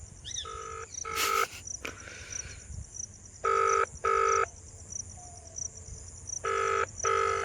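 An outgoing phone call rings back in repeated double-burst tones, loud and clear, with short pauses between the paired rings and faint background noise.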